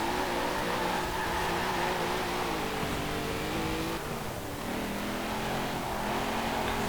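A car engine drones and revs steadily while driving in the racing game Forza Horizon 4, a continuous loud hum with slight pitch shifts as the speed changes.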